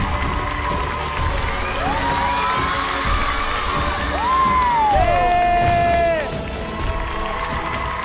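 A studio audience cheers and applauds to welcome magician Liu Qian onto a televised Chinese singing show stage, a continuous broad crowd roar with whoops and shouts rising through the middle, loud and close, with a voice calling over it.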